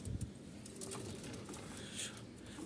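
Pigeons coo faintly on a pigeon farm in Dhaka amid a low, steady background hum, with the soft calls drifting in and out at a distance.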